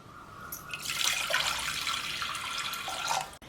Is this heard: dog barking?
no